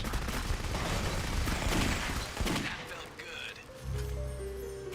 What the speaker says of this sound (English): Her sniper sound effect kind of sounds like the generic pistol sound from a lot of other games